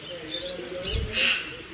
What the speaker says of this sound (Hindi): अलग अलग किस्म के बर्ड्स है यहाँ भाई, एक किस्म के नहीं है।